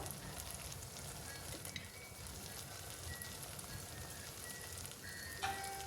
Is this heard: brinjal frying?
yes